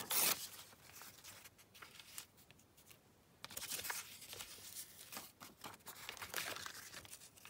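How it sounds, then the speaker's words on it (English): A map page is torn by hand for a collage. Quiet crinkling and ripping paper goes on throughout, close to the mic, with a louder tearing burst at the start and again midway. "Let's just tear it down here."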